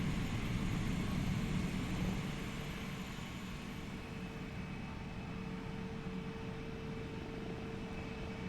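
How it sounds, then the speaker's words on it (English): Simulated aircraft in the X-Plane 11 flight simulator game produce a steady, faint engine drone with a constant whine, slightly louder at the start and then holding even. "Aircraft flying around."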